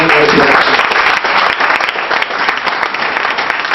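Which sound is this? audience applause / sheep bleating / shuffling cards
audience applause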